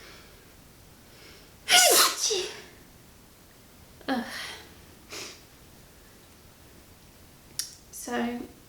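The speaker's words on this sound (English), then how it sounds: "Oh no, I'm gonna sneeze." A single loud sneeze bursts out close to the mic from a knitting podcast host, followed by sniffs and breathy snorts, and a brief spoken groan.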